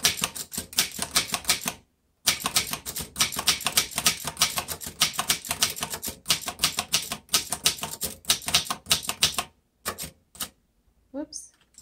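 Typing on a 1919 Corona Three vintage typewriter: dense runs of sharp, close keystrokes with brief pauses between bursts, ending in a few scattered taps and a faint high ring near the end.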